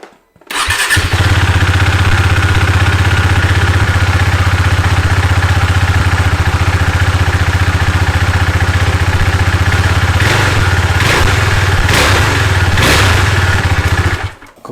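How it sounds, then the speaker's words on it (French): A Husqvarna Svartpilen motorcycle on its original stock exhaust starts up and settles into a loud, steady idle up close, with a few short throttle blips near the end before it cuts off. "je vais déjà vous faire une prise de son sur l'échappement d'origine"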